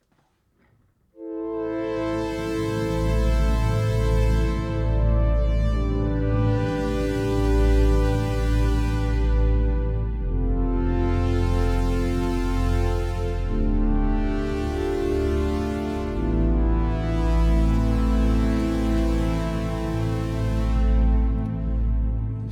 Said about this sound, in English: Roland Prologue, I'm going to use the runner blade,